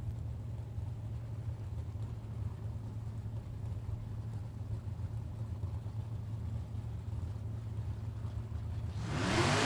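A drag racing Camaro engine idles and rumbles steadily at close range in a Unionville, Michigan Super Pro bracket event, swelling into a louder rev burst near the end.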